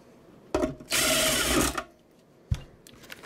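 A power drill drives new screws into a cabinet during a 2x4 rebuild, with a short whirring burst of under a second, a brief start just before it, and a clunk afterward, all close by with no talking.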